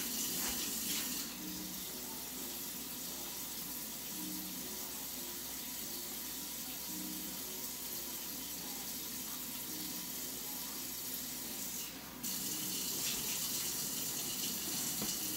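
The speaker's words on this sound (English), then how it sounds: "Okay, let's add some water." Kitchen faucet running water into a cooking pot, a soft continuous hiss and splash that holds steady for several seconds, briefly cuts out, then resumes, faint and close with no talking.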